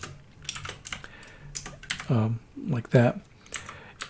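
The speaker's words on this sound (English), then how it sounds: "it's written by typing two characters, a less than and a hyphen" A computer keyboard clacking out the two-character R assignment arrow, a few quick crisp keystrokes scattered between bursts of someone speaking.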